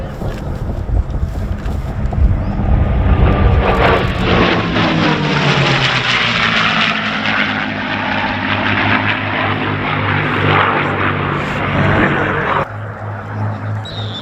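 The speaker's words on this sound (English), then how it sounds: "Tom Richards taxiing by in the P-51 Warhawk" A P-51 Mustang propeller fighter taxis past at an air show, its engine drone loud and close, swelling and sweeping in pitch as it moves by, then dropping away.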